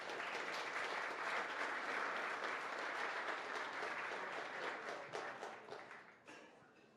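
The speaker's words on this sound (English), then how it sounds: "Please join me in a warm round of applause for all of them." A civic club audience gives a warm round of applause, dense and steady clapping that fills the room for several seconds before thinning out and fading at the end.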